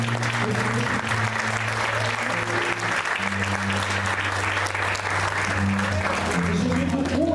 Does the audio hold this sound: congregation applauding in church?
yes